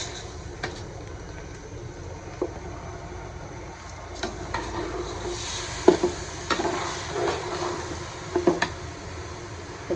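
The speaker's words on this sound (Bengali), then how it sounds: "আমি চাউলটা ভালোভাবে ভেজে নেবো" Rice frying with onions and ghee in a pot for beef tehari, a soft steady sizzle with occasional scraping stir clicks and louder clatters from the spoon against the pot.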